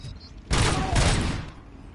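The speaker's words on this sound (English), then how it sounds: "Who is shooting at me?" Gunfire in the video game Robocop: Rogue City: a sudden dense burst of loud rapid shots after a short quiet lead-in, rolling for about a second and then tailing off.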